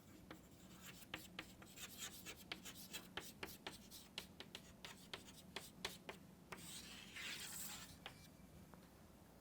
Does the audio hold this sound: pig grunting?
no